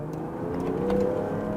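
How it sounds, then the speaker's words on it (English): A turbocharged six-cylinder petrol engine in a 2023 Range Rover Sport P510e plug-in hybrid kicks in with a steady, close-up droning hum that swells slightly midway, with no talking. "That's a turbocharged 6-cylinder doing its work."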